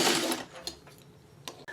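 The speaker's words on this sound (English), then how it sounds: "I am going to turn it and just come down so it's sewn, that little corner" A sewing machine stitches the corner of a quilt crumb block, giving a short whirring run followed by brief needle bursts, close and moderately quiet.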